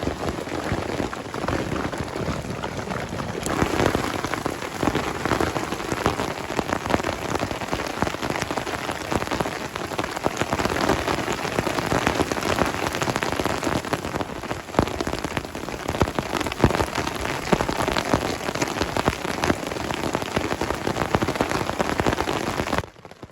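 Heavy rain from a thunderstorm pours steadily and loudly onto a surface at a campsite, a dense unbroken hiss with close patters of drops throughout.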